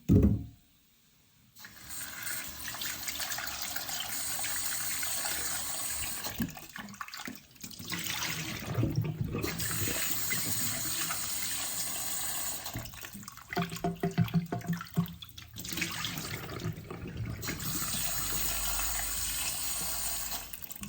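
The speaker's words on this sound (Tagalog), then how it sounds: "hugasan ko muna." Vegetables are washed under a running kitchen tap, giving a steady, close hiss of flowing water that dips in a few brief pauses and splashes as the produce is moved.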